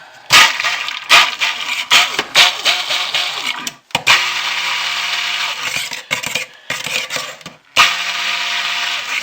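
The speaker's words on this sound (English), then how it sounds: "So let's do a little bit of stick blending, because this is way too thin." A stick blender whirs in short bursts and then longer stretches through a thin oatmeal, milk and honey mixture, loud and close, stopping and restarting several times with brief clatters between runs.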